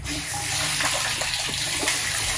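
Water gushes from an automatic pump into a tank, the pump run by an Elephant EPC-4 automatic pump control. The flow is a steady, close splashing rush with no talking.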